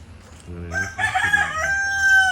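A rooster crows loudly nearby in a netted coop enclosure, a long rising then held call, with softer clucking from chickens around it.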